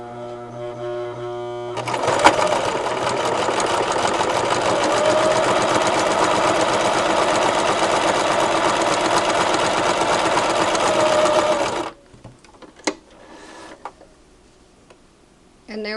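A sewing machine stitches steadily with 100% polyester thread, the tension dial set at 4.5, running in one long continuous mechanical whir for about ten seconds before stopping, followed by a few small clicks and handling noises.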